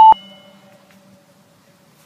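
A workout interval timer sounds one short, loud electronic beep at the start, with a faint ringing tone trailing off in the quiet afterward.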